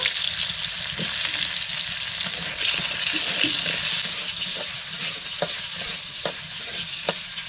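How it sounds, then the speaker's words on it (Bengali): Potatoes frying in hot oil give a loud, continuous crackling sizzle at close range, broken by a handful of distinct metallic stirring clinks spaced irregularly, with no one speaking. "এবার আমি কয়েকটা আলু ভেজে নেবো"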